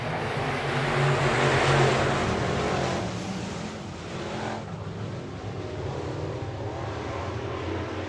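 Super Truck engines roar together at the start of a dirt track race at Victory Lane Speedway in Manitoba, a loud, dense engine drone that swells in the first few seconds and then settles into a steady field of trucks heading into the turn.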